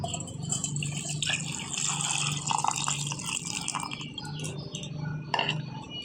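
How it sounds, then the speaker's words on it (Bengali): Coconut water poured from a green coconut over dry fruits like raisins in a blender jar, a continuous trickling splash with faint clinks, close and fairly steady. "এই না ডাবের এই জলটা কিন্তু দিয়ে দেবো"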